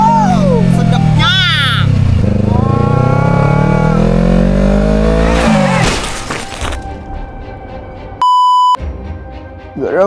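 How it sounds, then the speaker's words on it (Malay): A motorcycle engine revs in sharp rising and falling bursts, close and loud, followed by a rough idle and a brief electronic beep tone. "Suara memang motor baru lagi."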